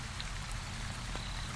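Steady rain falling as background ambience behind a King James Bible reading, a continuous soft broadband hiss with occasional faint drop ticks, even in level throughout and with no voice present.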